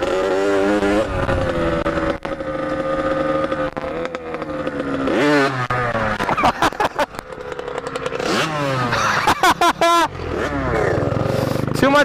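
A vehicle engine revs hard and unevenly with too much throttle, sharp rising and falling whines and sputtering bursts close by, with someone talking over it.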